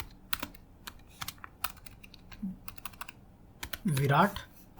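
A computer keyboard is typed on in quick, uneven bursts of sharp clicks while JavaScript array code is written, close and clear, with someone speaking briefly near the end.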